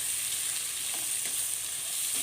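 Two small chopped onions fry in a pan, giving a steady hiss and sizzle with faint scraping stirs now and then, close and without talk.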